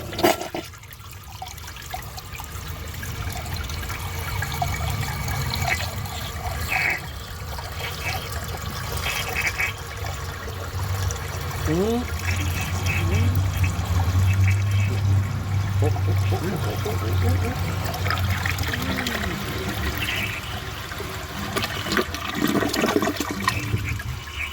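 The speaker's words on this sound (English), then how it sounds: "let's see how it flushes with a clogged siphon jet" A toilet with a clogged siphon jet flushes in a long continuous rush of water, loud and close, with gurgling and a rising swirl toward the end; a faint voice may be present.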